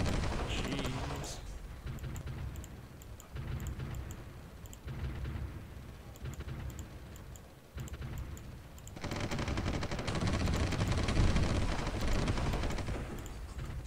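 Dense, continuous gunfire and booming blasts from a large tank battle in the strategy game Supreme Ruler 2020, loud throughout, swelling into heavier rumbling barrages near the end.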